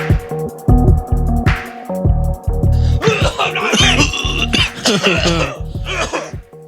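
Several harsh coughs and throat clearings burst out in quick succession, close and loud, with short pauses between them.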